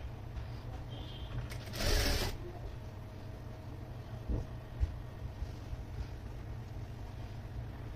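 A sewing machine stitches the lining of a long anarkali frock with a low, steady mechanical hum, broken by a short louder burst and a few soft knocks as the fabric is handled.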